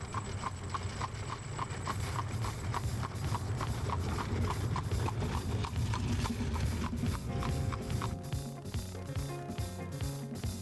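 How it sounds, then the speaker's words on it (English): Horses' hooves clip-clop on a quiet country road in Amish country, Lancaster, in a steady, even rhythm that carries on throughout, moderately near, with a faint rumble of wheels underneath. "the clip-clop of horses' hooves echo down quiet country roads"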